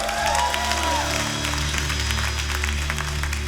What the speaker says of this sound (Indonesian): mari kita beri sekali lagi tepuk tangan yang meriah bagi Tuhan